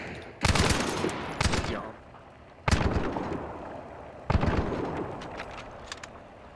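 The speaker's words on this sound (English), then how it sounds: "If you fire a loud gun too often, your ears will begin to ring." Loud gun in Hunt: Showdown fired three times at even intervals, each blast sharp and close with a long decaying tail, as a high thin ear-ringing tone sets in after the first shots.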